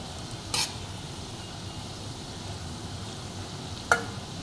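Corn pakodas fry in oil with a soft, steady sizzle, broken by two sharp clinks of a utensil against the pan.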